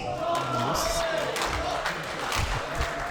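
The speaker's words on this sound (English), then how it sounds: "And you can hear the crowd." A crowd roars and shouts in a loud, noisy burst at a squash match, with a voice speaking over the excited cheering throughout.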